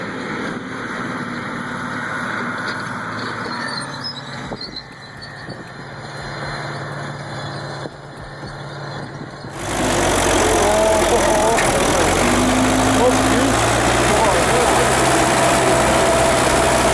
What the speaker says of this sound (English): V8 engine singing like it's 1985 again.